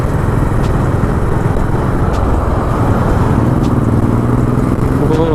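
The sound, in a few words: Harley-Davidson motorcycle riding past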